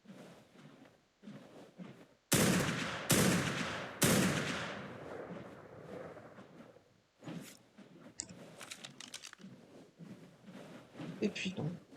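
Gunfire in the survival video game Ark Primal Fear, with a few loud, close booming shots in quick succession followed by quieter clicks and game noise, and someone talking at times.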